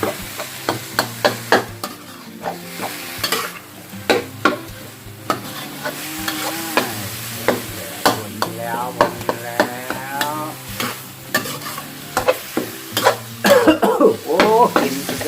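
Holy basil stir-fry with fish sauce and seasoning powder being tossed in a hot pan, with steady sizzling and repeated sharp scraping strokes of a ladle on metal, close and clear, with occasional voice sounds.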